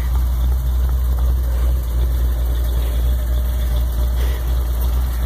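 A chop-top hot rod with no windows idles right after its first start in years, a steady close engine rumble with a low, even throb and no talk.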